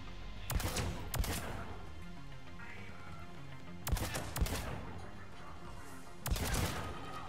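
Pistol fire in Mass Effect 3 comes as three loud, close bursts of two or three rapid cracks each, spaced a few seconds apart over a low background of game sound.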